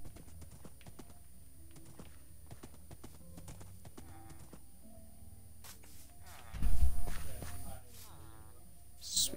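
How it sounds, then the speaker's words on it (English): Horse hooves in the Minecraft video game clip-clop in quick, repeated steps amid other game sounds, with a louder, denser burst of hoofbeats late in the clip. "Sweet, I've got 3 horses now."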